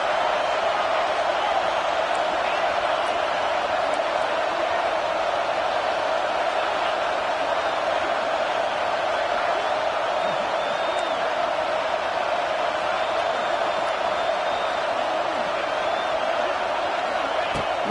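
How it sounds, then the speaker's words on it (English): A home crowd roars at a Georgia vs Alabama college football video game matchup, a steady, dense wash of cheering that holds at an even level throughout without breaks. "this home crowd is fired up and ready to make a difference"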